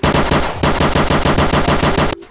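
Rapid automatic gunfire in a video game, a loud rhythmic burst of about a dozen shots that stops abruptly, leaving a faint tail.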